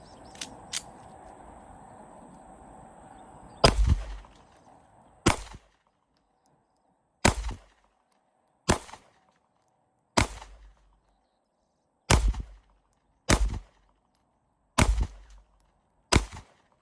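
Springfield Ronin EMP pistol fired at a target, first two quick shots and then nine more sharp, loud reports spaced about one to two seconds apart, each cracking into silence.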